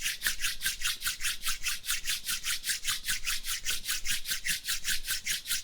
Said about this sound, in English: Now rub your palms against each other.